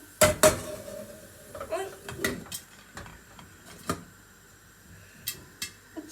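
Popcorn kernels popping in a pot, a few sharp, scattered pops and knocks with gaps between them, close and fairly loud, along with faint clatter from the pot.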